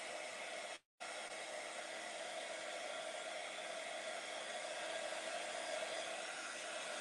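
A heat gun blows in a steady, close whir while drying a craft piece. It cuts out briefly near the start, then runs on continuously with no voices.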